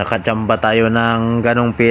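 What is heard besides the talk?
No distinct noise like a dog, phone or traffic.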